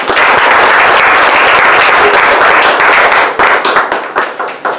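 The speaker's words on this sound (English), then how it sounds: "Let's give them a round of applause." Student presentation audience at a STEM camp bursts into loud sustained applause, dense clapping that thins into scattered individual claps toward the end.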